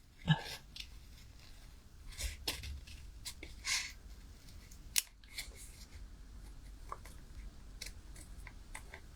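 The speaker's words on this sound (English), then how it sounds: "Get my scissors in the right spot." Scissors snip through designer series paper during card making, a few separate close cuts scattered among soft handling rustles and faint background noise.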